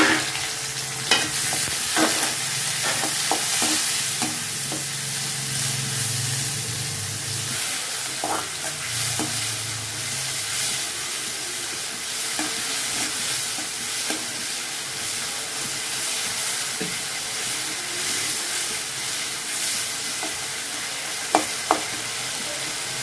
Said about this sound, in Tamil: அதுக்கப்புறம் நம்ம அந்த கட் பண்ணி வச்ச வெங்காயத்தையும் தக்காளியையும் நம்ம அதில் சேர்த்துக்கலாம்